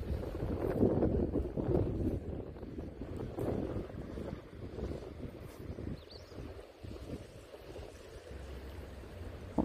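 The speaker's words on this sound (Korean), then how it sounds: "바람이 너무 기분 좋게 불어서" Wind blowing outdoors by the sea, with a steady rushing roar buffeting the microphone that is strongest at first and eases slightly toward the end, and no voices.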